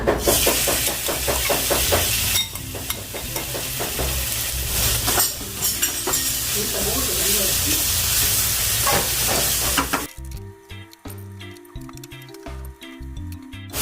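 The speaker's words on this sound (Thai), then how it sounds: "น้ำมันมันเหลือเราจะมาผัดหมูให้หอม" Pork stir-frying in leftover fried-garlic oil sizzles loudly and steadily with stirring scrapes for about ten seconds, then cuts to quieter, sparser clatter and hiss.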